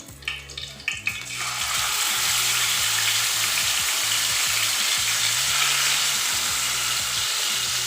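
Chicken lands on an oiled tawa over a low flame and starts sizzling at once, a loud, steady, close frying hiss after a few brief handling clatters, with no talking.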